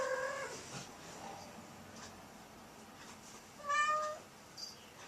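A cat meows a few times indoors, faint and close, short tonal cries with quiet room noise between them.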